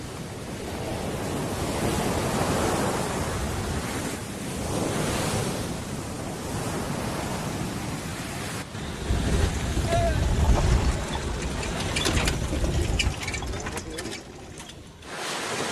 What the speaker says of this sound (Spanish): El turbulento mar de la costa nororiental, agitado por la acción incesante de los vientos